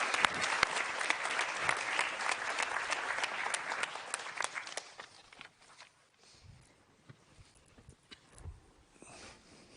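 Audience applause at a town hall on European defense, loud and crowded for about five seconds, then thinning into scattered claps and fading to quiet room noise with a few faint stirrings.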